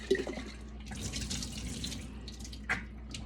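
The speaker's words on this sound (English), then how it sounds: "You got to do it with cold water because you don't want it to melt it." Running cold tap water splashing over homemade butter in a sink, with uneven spattering and a couple of sharper drips or knocks, fairly close and without talk.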